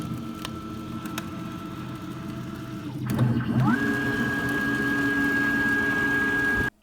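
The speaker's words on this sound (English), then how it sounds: "you've never seen anybody decap an IC with a CNC machine before" A CNC machine milling into an IC chip to decap it: a steady mechanical whir, then a sharp clatter as the cutter engages, followed by a sustained high-pitched spindle whine until it abruptly stops.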